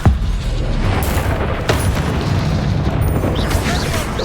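A Bombarda explosion spell cast in Hogwarts Legacy opens with a sharp booming burst, then gives way to a dense rumbling combat wash with scattered crackles and pops, and no speech.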